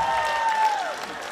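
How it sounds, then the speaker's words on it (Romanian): Audience applause at a high school freshman ball, a brief burst of clapping with a sustained tonal ring, likely microphone feedback or music, running over it. "Aplauze pentru Alessia, vă rog!"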